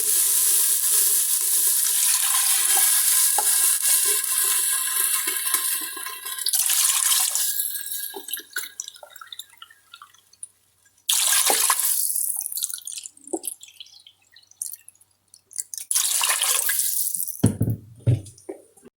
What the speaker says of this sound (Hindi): चार कप पानी ऐड करूंगी।